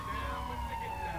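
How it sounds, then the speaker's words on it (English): An ambulance siren in the video game GTA IV, running the LCPDFR police mod, holds a steady, sustained wail at moderate loudness over low traffic rumble, with no gaps. "I don't know where that ambulance is going, where EMS is going"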